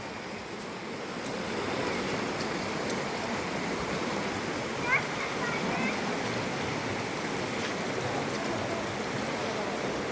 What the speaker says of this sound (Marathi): बाजूने नदी जी आहे, छोटीशी नदी वाहते